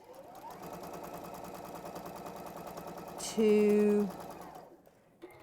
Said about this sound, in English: So I will go across to the machine and let's sew.